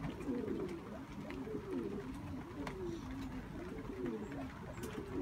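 Pigeons coo continuously in overlapping, rolling low calls, fairly close, over a steady background hum.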